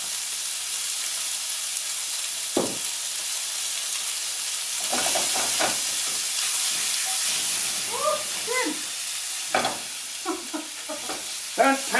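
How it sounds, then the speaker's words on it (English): Beef strips for Mexican fajitas sizzle in a hot frying pan with a steady, bright hiss throughout, as the meat is stirred and a voice talks briefly in the background. "Let's sizzle it up."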